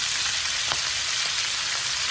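Cabbage frying in bacon drippings in a skillet gives a steady, close, loud sizzle with a dense crackling hiss throughout and no voices.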